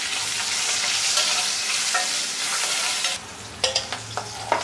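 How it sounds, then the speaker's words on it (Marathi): Green and red chillies sizzle in hot oil in a loud, continuous hiss that drops abruptly partway through, followed by a few sharp clinks and scrapes of a spoon. "अगदी ही थोडी मिरची परतून झाली तेलामध्ये"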